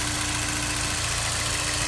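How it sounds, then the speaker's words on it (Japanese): Honda S2000 AP1 engine idling steadily with a smooth, continuous low hum and a constant tone, close by and even throughout with no talking. "アイドリングも落ち着いてます。"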